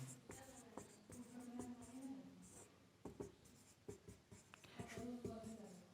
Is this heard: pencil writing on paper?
yes